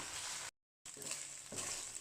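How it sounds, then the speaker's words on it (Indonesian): Beef stir-frying in a small amount of oil in a pan, with a steady sizzle that cuts out briefly and then returns, swelling as the meat is moved around. "Terus ini dagingnya masih kita tumis."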